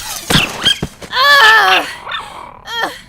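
A dog in an audio drama gives a few sharp close barks, then a drawn-out whining growl and a final short yelp, loud and clear with no talking over it.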